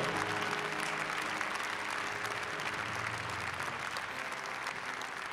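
Audience applause at the Tsitsernak national music awards ceremony in Armenia, a sustained steady clapping from a large crowd that stays loud and dense for about five seconds, with no speech over it.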